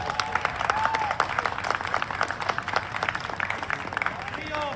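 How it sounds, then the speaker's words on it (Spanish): Crowd applause at a ranch tournament in a plaza arena for Rancho El Granjenal, a sustained loud wash of many hands clapping with whistles and shouts rising through it, an announcer's voice over the top. "¡Fuerte el aplauso!"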